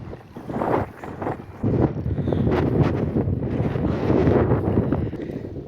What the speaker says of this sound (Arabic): راه كاينه الريح